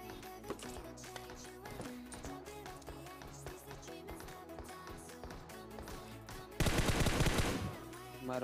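Automatic weapon fire rattles in rapid bursts through a PUBG Mobile match, with a louder, denser volley near the end, all over steady game audio and no clear talk.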